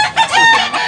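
A Clarit gamecock crows once, loud and close, a single short raspy cock-a-doodle-doo with wavering pitch, at a cockfighting setting in Tabunok, Cebu.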